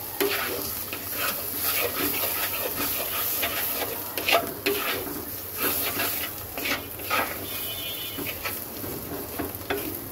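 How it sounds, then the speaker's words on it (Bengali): Ground turmeric, coriander, cumin and salt being fried and stirred in a pan for fish-head curry, a soft steady sizzle with repeated scraping strokes of the spoon, no talking. "দুই এক মিনিট মশলাটাকে একটু ভাজা ভাজা করে নেব"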